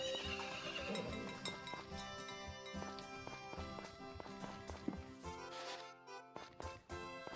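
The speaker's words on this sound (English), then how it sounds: "Horse." A horse neighs and whinnies over busy game music and light hoof clip-clops, moderately loud throughout, in the video game Harvest Moon: Friends of Mineral Town.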